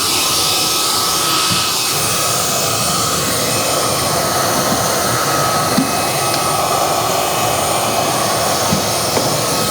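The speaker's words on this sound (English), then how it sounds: "I'm gonna go ahead and hit this on high." A Gevi cordless vacuum cleaner runs steadily on high power, a loud continuous whooshing roar with a thin whine, unchanging from start to finish.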